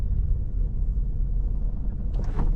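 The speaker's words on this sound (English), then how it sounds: "You'll hear the car shaking. It wants to keep going," A manual-transmission car in second gear, slowing toward a stop near stalling, gives a steady low engine rumble and shudder. It is close and continuous, with a brief brighter rattle near the end.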